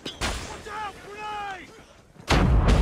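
C4 explosive detonating in Call of Duty Mobile: a heavy, loud blast that ends the clip, preceded by a short gunshot and some tonal game sounds, with no talking.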